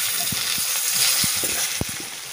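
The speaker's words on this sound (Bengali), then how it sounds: "এবারে আমি আলুগুলোকে ভেজে নেব" Potatoes dusted with turmeric fry in mustard oil, a steady broadband sizzle with a few soft stirring knocks and one sharper clack near the end.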